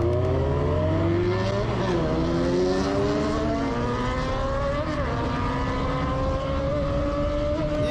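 A Honda Hornet motorcycle screams at high speed in a police chase, its engine note loud and sustained with pitch sweeps as it revs through the gears, alone without talk.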